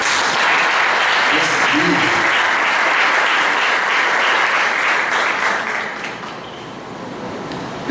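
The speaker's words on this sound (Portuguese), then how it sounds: "Vamos aplaudir a Jéssica?" A church camp congregation claps for Jéssica at a youth gathering, a dense, steady wash of applause from the whole room that holds for several seconds and then thins out toward the end.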